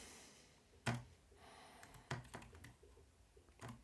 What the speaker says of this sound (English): Let's push 1 on the keyboard and we can write some text.